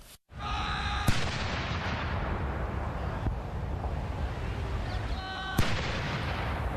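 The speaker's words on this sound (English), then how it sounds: "A 41-gun royal salute echoed through London in honor of the Duke of Edinburgh's 96th birthday." Artillery guns firing a 41-gun royal salute in London, two loud booming shots several seconds apart that echo and rumble away over steady outdoor wind noise.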